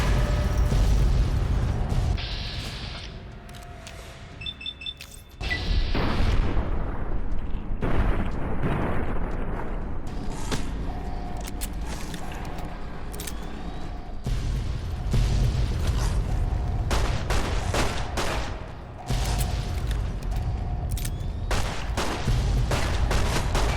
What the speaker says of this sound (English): if these explosions would stop making me fly all over the place or the screen shake